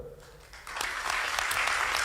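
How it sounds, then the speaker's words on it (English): Audience applause for both speakers at a high school debate, starting sparse and quickly swelling into sustained clapping from a crowd. "Ladies and gentlemen, a round of applause for both of them"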